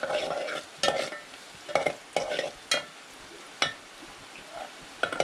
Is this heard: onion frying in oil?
yes